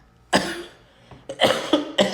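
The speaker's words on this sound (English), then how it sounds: "Still coughing." Several sharp, close coughs in quick succession: one burst, a pause, then three harsh coughs clustered together near the end, with no talking.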